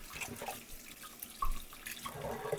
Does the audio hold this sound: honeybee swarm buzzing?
no